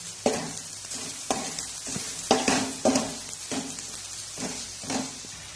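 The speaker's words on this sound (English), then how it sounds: "Now cook it until the onions turn golden brown." Onions and chopped garlic fry in a pan, a close, continuous sizzle broken by about eight rhythmic scraping stirs of a spoon, with no voices.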